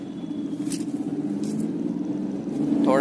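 A Maruti Suzuki Alto CNG hatchback, built 2000–2014, pulls away from a standstill in traffic, its small engine a low, steady drone building gradually, with a few soft clicks and a rising whine at the end.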